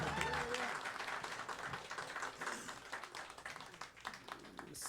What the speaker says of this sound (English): can we just get one more round of applause for Lauren Kirby on vocals?